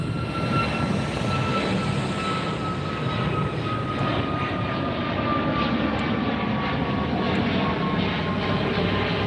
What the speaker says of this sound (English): Double takeoff.